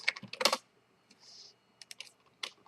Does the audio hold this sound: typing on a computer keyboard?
yes